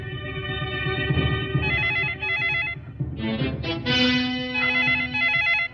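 Telephone ringing in a 1997 suspense thriller film scene, a continuous electronic trill that pauses briefly and resumes, loud and close over a low background hum.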